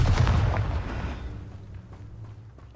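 Confringo blasting spell from the Hogwarts Legacy video game erupting in a deep, booming explosion that rolls out and fades over a couple of seconds, loud at first and then trailing off with faint crackles.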